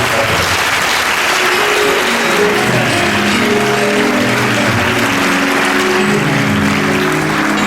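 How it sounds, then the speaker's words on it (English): A church congregation applauds singers in a sustained, loud wash of clapping, with murmured voices and faint tonal sounds running underneath. "Give them a round of applause for the ones who got this."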